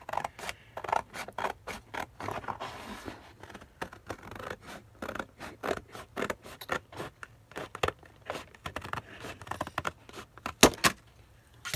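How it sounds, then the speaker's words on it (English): Scissors snip along a line through craft material for a December daily number project, a long run of close, crisp cuts in quick irregular rhythm with short pauses, no talking. "I'm going to come over here and cut it right along this."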